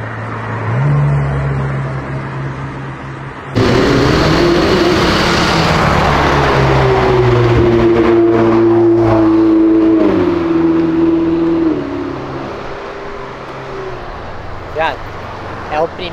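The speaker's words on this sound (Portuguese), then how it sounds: "acho que é Isaac, se eu não me engano, gravou de uma McLaren maravilhosa" A McLaren sports car on an avenue gives a loud, close engine roar that climbs steadily in pitch while accelerating, then fades as it moves away, leaving quieter road ambience.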